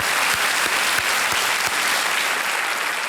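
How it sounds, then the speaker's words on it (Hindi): A game show studio audience applauds to welcome a contestant, dense sustained clapping from many people throughout with no talk over it. "और तालियों के साथ इनका स्वागत करते हैं।"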